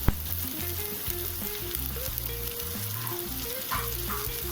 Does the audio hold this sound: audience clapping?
no